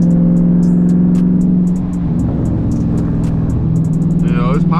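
A car under paddle-shift acceleration roars loudly from inside the cabin, engine droning and rising, with a run of sharp exhaust pops and crackles that grows busier near the end.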